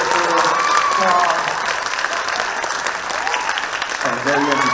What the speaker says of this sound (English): Come on, let's have a big round of applause once again for Miracle Carr.